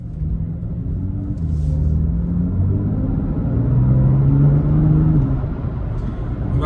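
BMW M2 coupé driving on a wet, oily road in the rain, its engine a steady low rumble with slight rises in pitch, close and continuous throughout with no one talking.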